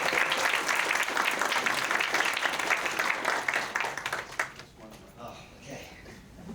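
Applause for a panel at an AAPI event: a crowd claps steadily and fairly loudly for several seconds, then the clapping thins out and fades to scattered sounds as a voice begins speaking.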